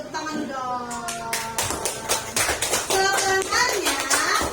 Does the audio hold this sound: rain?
no